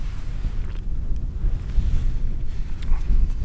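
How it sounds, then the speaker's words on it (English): Wind gusts at a solo wild camp in freezing conditions in the English Lake District, a steady, low roar buffeting the microphone throughout with no speech. "You don't want the wind to take away the David Bellamy"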